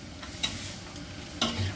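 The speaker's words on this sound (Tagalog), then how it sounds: "Nagigisa tayo ng gulay. Ay ng bawang at sibuyas." Garlic and onion sautéing in a pan for pancit bihon, a steady low sizzle and frying hiss with two brief spatula scrapes or clinks standing out, no voices.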